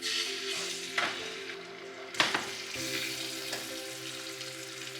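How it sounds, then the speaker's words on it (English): Chicken pieces for Belizean recado stew sizzle skin-down in a pan over high heat, a steady close frying hiss broken by a few sharp clinks of utensil against the pan. "You're gonna wanna brown your chicken really, really well on both sides."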